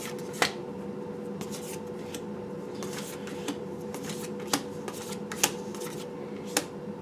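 Playing cards being shuffled for a tarot-style reading, a steady papery riffle running throughout with a few sharper snaps of cards standing out at close range.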